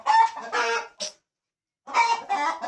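Chickens on a farm at night after a wild cat attack, their rooster-like calls coming in two loud bursts split by a short silence, close and clear with no talking.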